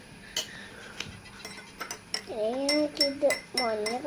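A spoon clinks and scrapes against a glass while juice powder is stirred into water, a run of light taps followed by sung or spoken voices over the stirring.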